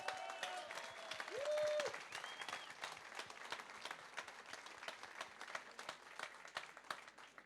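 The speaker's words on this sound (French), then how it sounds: "Merci d'applaudir Fabien de Kempeneer." Guests at a citizens' dinner give a round of clapping that is moderately distant and stays steady throughout. Speech and brief tonal sounds are heard faintly over the start of the applause.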